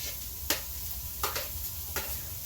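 Carrots, peas and corn stir-fried for pork fried rice, a steady close sizzle with a few sharp scrapes of a utensil against the pan at irregular intervals.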